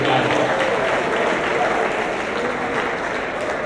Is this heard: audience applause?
yes